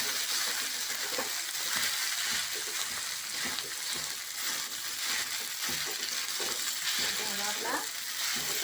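Leftover rice frying with cumin for jeera rice, a steady, dense sizzle filling the whole stretch, with occasional scraping and stirring sounds close by.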